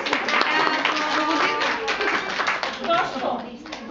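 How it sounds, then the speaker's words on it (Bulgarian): Scattered clapping from a small group at a kindergarten celebration for March 8, close and uneven hand claps, with children's and adults' voices talking throughout. "Аплодисменти за Наско."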